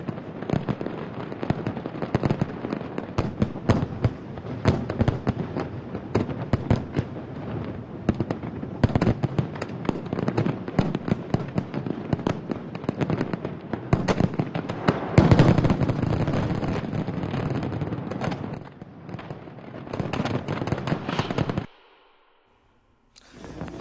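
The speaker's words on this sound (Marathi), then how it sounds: "नव्या वर्षाचं जल्लोषात स्वागत करण्यात आलेलं आहे फटाक्यांची आतषबाजी करत" Rapid bursts of New Year fireworks crackle and pop continuously, some booming louder, before a sustained roar that cuts off into near silence.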